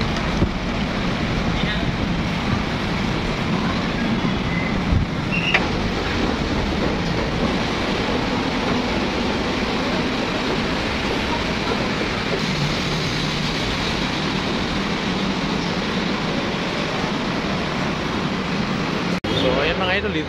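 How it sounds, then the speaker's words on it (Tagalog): A light rail LRT train bound for Manila rumbles steadily past at close range, a continuous broad roar of wheels and wind that holds for the whole stretch with little change in loudness. "pa Manila yan yung LRT na yan"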